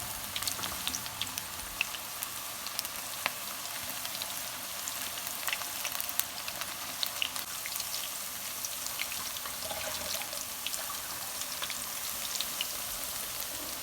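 Mixed vegetable pakoras deep-fry in hot oil, a steady dense crackle and sizzle with scattered pops, close and continuous throughout with no talking.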